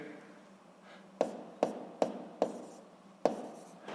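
Chalk or marker tapping and scraping on a classroom board while force labels are written, a run of five or six sharp close taps under faint room tone.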